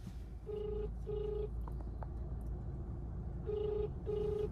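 Outgoing phone call: repeated paired ringback tones, two bursts, a pause, then two more, over steady road or engine rumble after arriving in a town.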